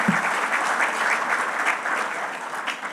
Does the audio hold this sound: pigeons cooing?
no